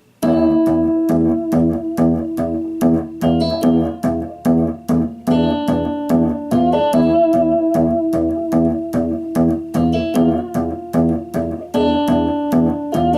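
Rhythmic guitar riff in the Phrygian mode, circling between root and flat second with steady repeated plucked notes, loud and continuous throughout.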